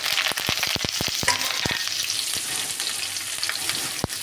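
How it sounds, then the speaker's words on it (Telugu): Cumin, garlic, onion and curry leaves fry loudly in hot oil in a pan, a bright steady sizzle punctuated by a quick run of sharp spatula taps and scrapes early on, then one more knock near the end. "కొద్దిగా జీలకర్ర, తెల్లగడ్డ, ఎర్రగడ్డ, కరివేపాకు అన్నీ కలిసేయండి."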